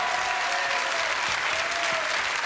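Studio audience applause on a French TV variety show greeting a singer's arrival, a dense, loud, sustained roar of clapping from a large crowd throughout.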